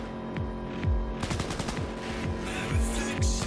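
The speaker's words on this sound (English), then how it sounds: "I don't know who you're firing at, Claire, but sure, have fun." Automatic gunfire rattles in repeated bursts in the video game Cyberpunk 2077, set over a steady low hum and throbbing engine-like drone, with no talking.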